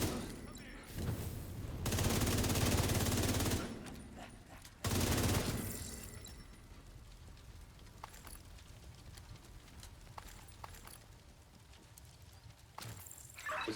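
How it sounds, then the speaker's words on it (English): Gunfire in a video game: loud, dense bursts of rapid shots lasting a couple of seconds each, followed by scattered sharp cracks and quieter clatter. "Was that gunfire?"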